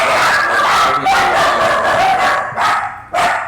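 Several dogs bark and yip in quick overlapping bursts close by, with a short gap near the end before another loud bark, and no one talks over them.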